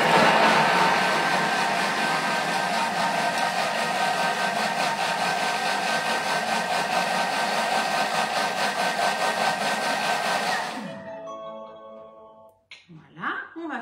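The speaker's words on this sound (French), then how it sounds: "Et on va mixer ces fraises en purée pendant 10 secondes," Food processor whirring at speed 6 to purée fresh strawberries, a continuous loud motor drone for about ten seconds before it stops, followed by a few brief knocks.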